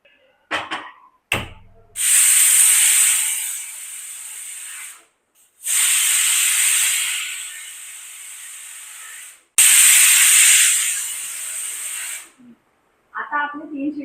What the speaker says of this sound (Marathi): आता आपले 3 शिट्टे झाले.